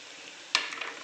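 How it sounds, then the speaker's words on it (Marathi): Onion sautéing in a pan over low heat, a soft continuous sizzle with a sharp stir or clink partway through followed by a few lighter crackles. "छान मंद आचेवर लालसर होईपर्यंत आपल्याला परतून घ्यायचं आहे"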